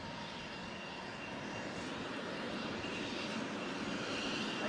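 An F-16 fighter jet engine gives a continuous broad roar at moderate, distant-sounding loudness that stays steady and slowly swells throughout. No speech is heard over it.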